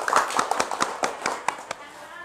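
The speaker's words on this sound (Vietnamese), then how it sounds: "chúng ta hãy dành một tràng pháo tay thật lớn" Brief round of handclaps at a Vietnamese Mekong Delta wedding proposal ceremony, a dozen or so distinct claps in loose rhythm, near and moderately loud, with voices talking over them.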